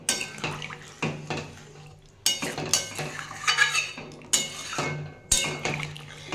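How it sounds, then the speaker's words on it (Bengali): Water poured from a vessel into a cooking pan of fish curry with ridge gourd, heard as several splashing bursts mixed with clinks of a metal utensil, close and alone. "আমি এবারে জল ঢেলে দেবো।"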